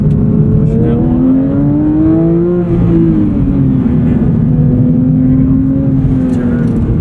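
Porsche 911 engine on track after a downshift, revving up and then holding a steady, droning pitch through a corner; loud and close, with an instructor speaking over it.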